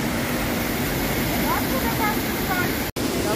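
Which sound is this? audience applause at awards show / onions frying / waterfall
waterfall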